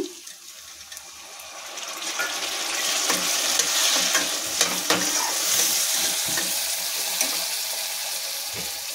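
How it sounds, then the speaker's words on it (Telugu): Chopped tomatoes hit browned onions in a hot pan and sizzle steadily, with scraping stir strokes swelling louder midway through a continuous frying hiss, close up with no talk. "ఇలా ఉల్లిపాయలు ఎర్రగా వేగాక టమాటాలు వేసుకుందాము"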